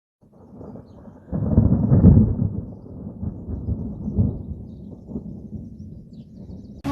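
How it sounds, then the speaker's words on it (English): A long, deep rumble of thunder rolling in after a quiet start, swelling loud then fading slowly as it drifts away. "there was a huge lightning and the thunder followed."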